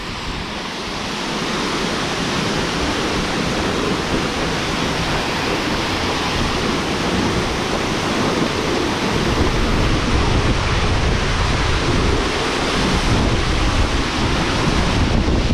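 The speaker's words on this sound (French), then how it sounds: "l'eau saute en effet d'un niveau supérieur à un niveau supérieur sans couler sur la paroi" Water dropping freely over a cliff edge along a mountain cascades trail, a steady, dense roar of falling water that stays loud and continuous throughout.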